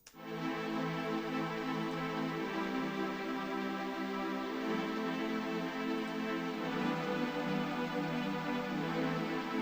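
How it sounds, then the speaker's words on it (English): Fire preset synth pad from FL Studio's Flex plugin playing an amapiano chord progression: a dense, bright, sustained wash of layered tones with a swift swell at the start, holding steady and loud throughout with no voices. "And then I also added a pad sound."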